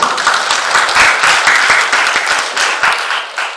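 A church congregation at a Sunday worship service claps together, a dense, steady wash of many hands that stays close and loud throughout.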